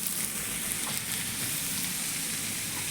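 Potatoes for alu dom fry in a pan with a dense, even sizzle close up, loud and unbroken throughout with no voices.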